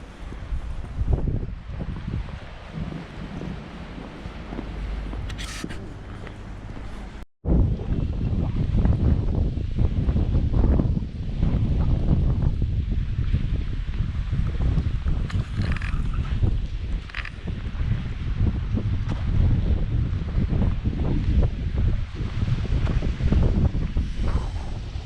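Strong wind gusts across an exposed seafront in Magaluf, buffeting the microphone in a loud, continuous roar with a brief dropout partway through.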